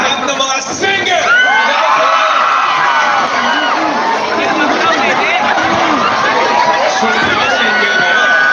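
A large crowd of singles at an anniversary celebration in Hyehwa, Seoul shouts, cheers and whoops loudly and continuously, a dense roar of many voices with chatter throughout.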